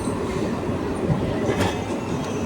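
Rumbling rail noise of a train rolling past at Khodiyar Mandir railway station, with a steady low roar and faint rhythmic clatter, close and continuous.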